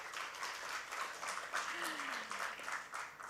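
Clapping from a conference audience just back from lunch, a faint, distant, even patter of applause that keeps going without a break, with a brief voice sliding through near the middle.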